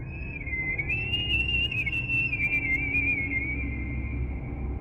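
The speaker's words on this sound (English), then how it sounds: "A high-pitched whistle coming from somewhere near the trees." A sustained high-pitched whistle holds one tone with slight wavering for about five seconds over a low steady background rumble.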